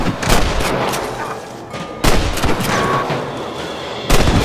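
Gunfire aimed at cattle rustlers in the western video game Red Dead Redemption, three sharp, loud gunshots spaced about two seconds apart, each trailed by a rumbling echo and outdoor ambience, without speech.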